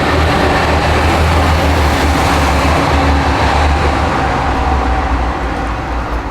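A train rolls past close by, a loud, continuous rumble and rattle of wheels and wagons that stays strong before easing slightly at the end.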